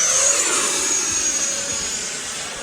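An E-flite F-16 foam RC jet with an electric ducted fan flies past over a small runway area, its steady high-pitched whine fairly loud and even throughout, slowly easing off slightly with no talk.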